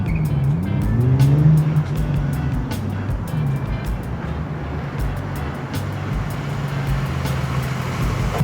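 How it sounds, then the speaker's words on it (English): A Lexus IS300 on coilovers revs and whines through quick sharp maneuvers, with tires squealing sharply early on and the motor droning loudly throughout. "I'm going to go ahead and set this down and do some stupid maneuvers in my car."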